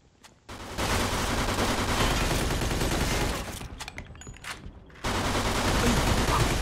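Sustained gunfire from a mobster shootout in the video game Mafia II, dense rapid shots running for several seconds with a brief lull before resuming loudly.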